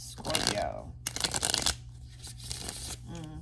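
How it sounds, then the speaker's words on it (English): A deck of tarot cards is shuffled by hand in close, crisp riffling bursts, followed by a short spoken moment at the end. "Let me give it another good shuffle."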